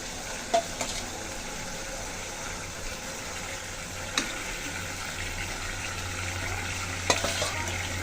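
Hilsa fish pieces frying in hot oil for a mustard hilsa dish, giving a steady, even sizzle with a few soft clicks and pops scattered through it.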